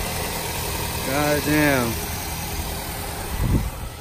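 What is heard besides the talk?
Nissan Sentra engine idling after an engine swap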